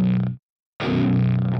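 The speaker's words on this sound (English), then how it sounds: "That fizzing noise you hear is the noise gate tripping too early." Distorted metal guitar palm mutes through a free amp plugin with a noise gate tripping too early, two loud chugging bursts split by abrupt silence, with fizzy gated edges and no talking.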